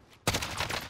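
A few single gunshots from a video game rifle fired one at a time at long range, a sharp loud report after a brief quiet start, then a dense ringing tail.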